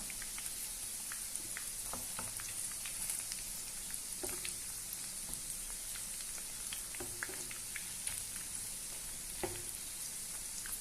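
Chicken cutlets fry in oil in a pan with a steady, close sizzle and scattered popping crackles, occasional soft stirring or turning sounds, no voices.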